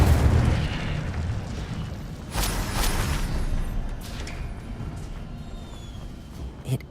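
Incendio, a fire spell cast in a Harry Potter video game, gives a low whooshing boom with flame crackle and rumble that fades out, followed by a small late pop.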